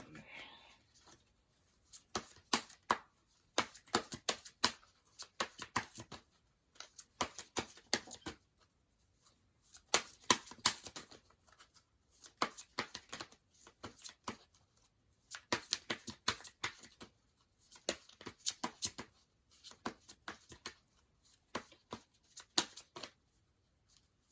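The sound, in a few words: shuffling Moonology oracle cards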